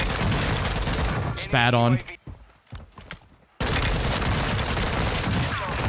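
Rapid gunfire in a class-based shooter video game, dense bursts of shots at the start, a brief quieter gap with scattered cracks, then heavy sustained firing again; a voice speaks briefly amid the shooting.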